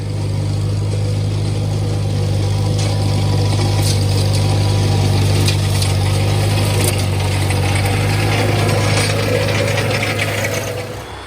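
A Mott flail mower mounted on a Farmall Cub tractor runs steadily on a lawn, a constant low engine drone with a broad rattling, whirring mechanical wash over it, loud and near throughout with no pauses.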